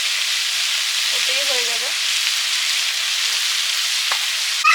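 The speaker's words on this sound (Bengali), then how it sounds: "সবজিটা একদম প্রায় ভাজা ভাজা সেদ্ধ মতো করে নেব" Vegetables frying in a pan for a home-cooked village-style greens curry, a steady loud sizzle throughout, with someone briefly speaking over it.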